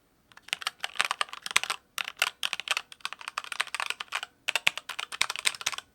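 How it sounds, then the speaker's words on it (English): Typing on a HyperX mechanical keyboard with Cherry Red switches, bursts of rapid close-up key clacks in quick runs separated by brief pauses, clear and alone. "If you're not familiar with the cherry red switches sound,"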